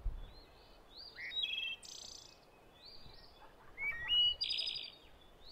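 A small bird in a country garden gives a string of high, thin chirps and short whistled calls in uneven bursts, close and clear against a quiet background.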